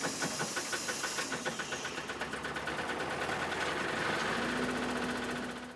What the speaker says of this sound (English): Generator up and running.